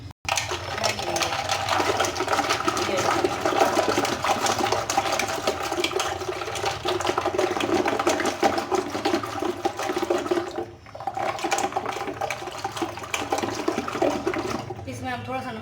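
Yoghurt and water are whisked vigorously for salted Punjabi lassi, a loud continuous churning and sloshing with a brief pause midway, and a voice talks over parts of it.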